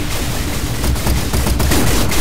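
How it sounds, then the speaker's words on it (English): Rapid-fire guns shoot in the vehicle combat game Gear Up, a dense, loud, continuous volley of overlapping sharp cracks and bursts with no talking. "With your rapid fire guns."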